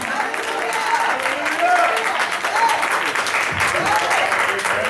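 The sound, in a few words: congregation clapping hands in praise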